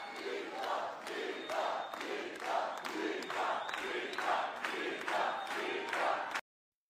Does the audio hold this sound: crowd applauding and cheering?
yes